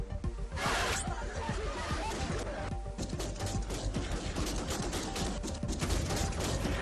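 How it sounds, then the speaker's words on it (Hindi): Bursts of rapid gunfire crackle against a dense, noisy background of a crowd at Kabul airport, with sharp pops scattered throughout. "भीड़ पर चल रही गोलियां"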